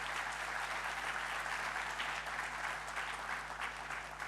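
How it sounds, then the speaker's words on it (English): A large audience at a student induction program gives a big round of applause for the students who designed the brochures: dense, steady clapping that holds evenly throughout, without talk over it. "Can I please ask for a big round of applause?"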